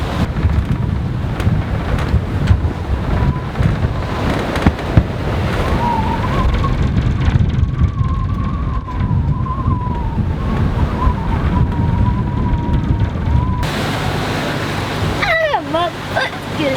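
Strong wind of about 30 knots roars steadily across an Atlantic sailing boat, with heavy microphone buffeting, rushing water and waves underneath, and faint whistling tones rising partway through.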